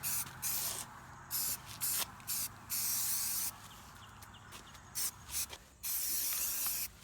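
Spray can laying down a primer coat on an old cracked wheel rim, heard as repeated hissing bursts of varying length separated by short pauses, close and fairly steady, with no talk.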